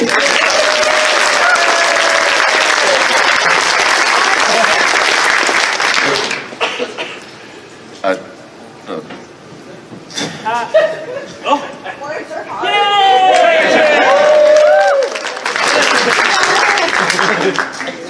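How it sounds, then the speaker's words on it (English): A comedy show audience breaks into loud applause for a cat, with cheering and laughter mixed in; the clapping fades as voices and chatter take over, then a second burst of applause swells up near the end. "Everyone clap for the cat"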